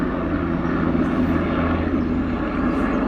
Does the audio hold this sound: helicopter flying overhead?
yes